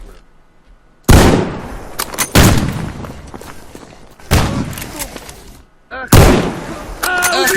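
Gunfire in S.T.A.L.K.E.R. G.A.M.M.A., several loud, close, sharp reports spaced a second or more apart, each followed by a decaying echoing tail with scattered clinks between.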